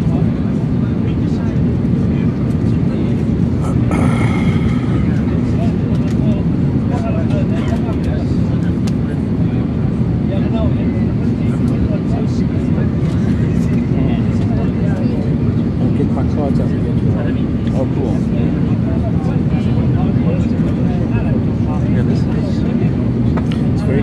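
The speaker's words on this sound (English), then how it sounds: "With only 200 hours, it's a really quiet airplane." Steady, loud broadband cabin drone inside a light airplane with only 200 hours on it, on approach to land at Toulouse, continuing without a break while a voice talks.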